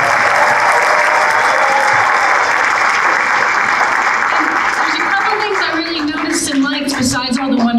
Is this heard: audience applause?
yes